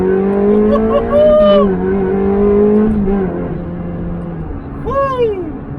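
A Ferrari Challenge Stradale, finished in white, accelerates hard on a warm-up run, its loud engine note rising and then falling through the gears, with a short sharp rise near the end.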